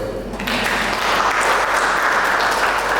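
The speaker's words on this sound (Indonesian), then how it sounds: "Tepuk tangan buat beliau." An audience claps at the opening ceremony of a library technical training session in West Papua, dense sustained applause swelling in after a brief quieter moment and holding steady.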